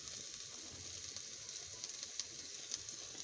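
Oil added to a pan sizzles steadily while pumpkin cooks with fish in a home kitchen, a soft continuous frying hiss with faint crackles and no talking.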